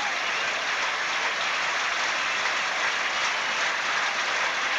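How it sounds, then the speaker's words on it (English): Tennis crowd applauding Stefan Edberg during a match against Michael Chang, a steady wash of clapping from a large stadium audience, even and sustained throughout. "Tony Pickard leading the applause for Edberg."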